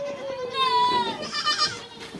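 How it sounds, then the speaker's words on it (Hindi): Pregnant goats in a farm pen bleat, one long wavering call followed by several overlapping bleats nearby, moderately loud, with faint background voices. "तो मैं आपको दिखाता हूँ अपनी प्रेग्नेंट बकरियाँ।"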